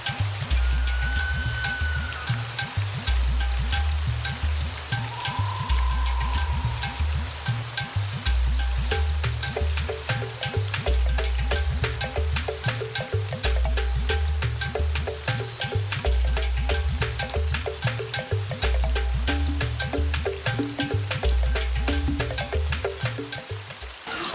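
Steady rain falling in a deep Madagascar forest, a continuous dense patter of drops with a low rhythmic rumble underneath, persisting evenly without any voices.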